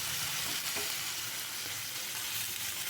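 A pomfret fish fries in a pan, a dense, even sizzle close up and fairly loud, with a soft scrape as it is turned over.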